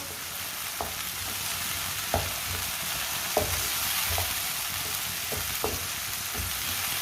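Radish with garlic frying steadily in a pan, a continuous close sizzle broken by periodic scrapes and clinks of a spoon stirring, with no voices.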